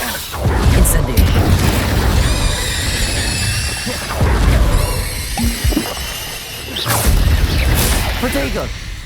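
Incendio fire spell blasts in Hogwarts Legacy: loud booming bursts and whooshing flames erupt repeatedly amid crashing combat effects, with voices shouting during the fight.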